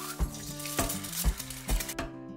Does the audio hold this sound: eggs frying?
yes